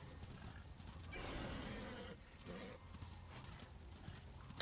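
A horse gallops in the video game Darksiders, its hoofbeats thudding in a steady rhythm with mechanical creaks, loud against game ambience.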